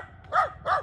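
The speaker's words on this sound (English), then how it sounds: "This dog running loose." A loose dog barks twice outdoors on a rural road, two short, moderately distant woofs about a third of a second apart over low background noise.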